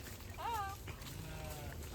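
A goat bleats once, a wavering nasal cry, followed by a fainter second bleat against a low outdoor rumble.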